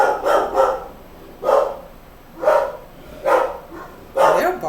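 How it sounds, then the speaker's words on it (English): A dog barks repeatedly in loud, spaced bursts, roughly one every second, close by with short quiet gaps between. "they're barking really hard"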